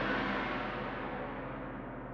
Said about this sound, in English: So I have here tam-tams, which are, you know, your regular gongs